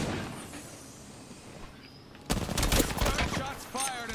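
Gunfire in the video game Apex Legends, a sudden burst of rapid automatic shots breaking in after a quieter stretch, loud and close, continuing in dense volleys to the end.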